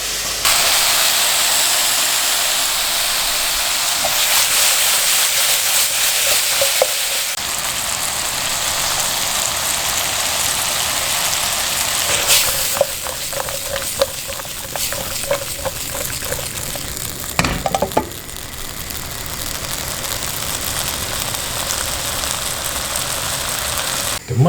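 Mushrooms cook in a pan with salt and butter, giving a steady hissing sizzle like rain, with occasional clicks and a few brief bursts of louder crackling, and faint talk in the background.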